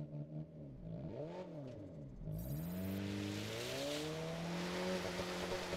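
Car engines revving in a racing video game, swooping up and down in pitch as the cars accelerate, with a constant loud roar and a brief hint of tire noise.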